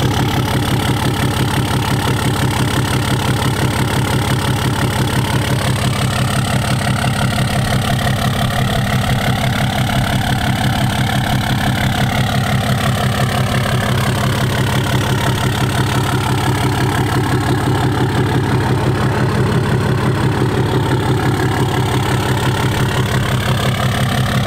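A Cummins truck engine with a 6-speed, fitted with a new exhaust tip, idles steadily and loudly with a deep, even rumble throughout, alone with no talk.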